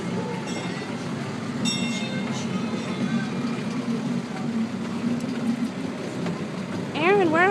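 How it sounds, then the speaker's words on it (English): Steady rumble of a train interior during a ride, with continuous wheel and rail noise throughout; an adult and someone talk and coo over it, and a high sliding squeal rises near the end. "Oh my goodness, we're on a choo-choo."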